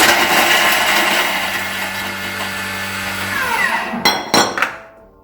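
A food processor whirs at high speed in a steady loud drone, then winds down with a few clunks and rattles as it stops.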